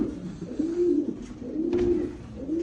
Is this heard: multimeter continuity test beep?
no